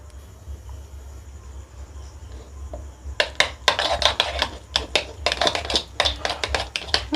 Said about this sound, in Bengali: একটা বাটিতে ঢেলে নিচ্ছি, নিয়ে এটাকে ফেটিয়ে নেব। এটাকে ভালো করে ফেটিয়ে নিতে হবে।